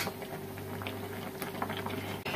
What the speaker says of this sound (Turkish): Şimdi sirkeli suda domatesler de kaynasın.